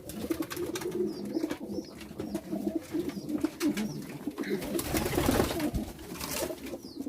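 Pigeons in a loft coo in soft, repeated low calls, several birds overlapping, with faint rustling and a few brief chirps nearby and no talking.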